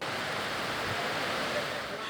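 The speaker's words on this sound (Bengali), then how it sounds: "লঘুচাপের প্রভাবে উত্তাল কুয়াকাটা সংলগ্ন বঙ্গোপসাগর" Rough waves of the Bay of Bengal off Kuakata, churned up by a low-pressure system, roaring as a constant dense wash of surf with no distinct breaks.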